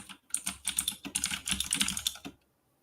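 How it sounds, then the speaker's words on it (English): Rapid typing on a computer keyboard, close and crisp, with dense clusters of key clicks that stop abruptly after a couple of seconds into silence. "Somebody's ticking their keyboard over there."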